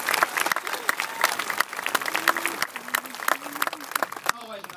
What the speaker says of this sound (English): Let's give them another big hand of applause.